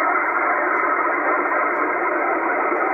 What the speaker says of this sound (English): Testing the IF filter